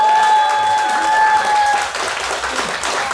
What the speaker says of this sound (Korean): 큰 박수로 소개해드리도록 하겠습니다